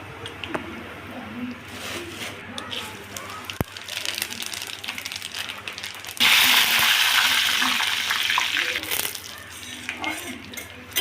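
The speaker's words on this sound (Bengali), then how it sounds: "এবারে ফোড়ন দেওয়া হবে" Whole spices for tempering khichuri of rice and lentils drop into hot oil and burst into a loud, steady sizzle midway, after quieter kitchen clatter and stirring.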